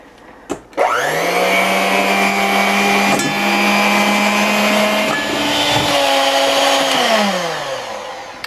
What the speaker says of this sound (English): using my handheld mixer, I'm going to start to incorporate the powdered sugar into my egg whites until it's kind of fluffy and glossy